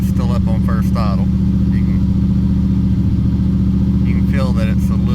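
An engine cranks and then idles on first idle on a cold day, running slightly lean; a steady loud low rumble continues throughout, with people talking over it at the start and near the end.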